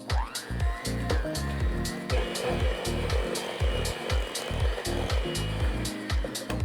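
Electric mixer beating kourabiedes dough of butter and egg, a steady motor whine with regular rhythmic thumps as the beaters knock around the bowl, close and continuous.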